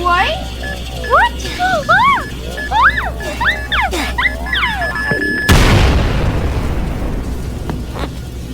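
A video game bomb detonates with a sudden loud boom that rolls into a long rumbling decay, coming after a run of bright chirping, wobbling game tones.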